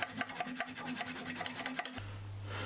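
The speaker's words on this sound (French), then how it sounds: "j'agrandis le trou" A hand file enlarging a hole in steel angle iron gives quick, rhythmic rasping strokes, close and moderately loud, for about two seconds before stopping abruptly.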